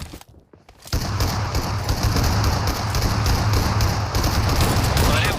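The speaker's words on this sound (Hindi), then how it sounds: "जीवन भर का गोली चला दिया मैंने, एक गोली नहीं लगी" Rapid bursts of gunfire from a mobile shooter game run almost continuously after a brief quiet opening, loud, dense and crackling, with no talk over them.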